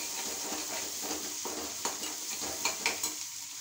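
Spices and dried red chilies temper in hot coconut ghee in a pan, giving a soft continuous sizzle with a few light stirring clinks and taps near the end, heard alone without talk.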